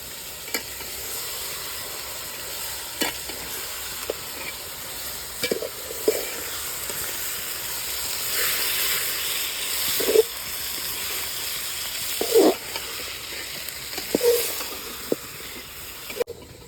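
Mutton pieces sizzle in spice paste in a pan, a continuous hiss of frying broken by occasional spatula knocks and scrapes, close and moderately loud.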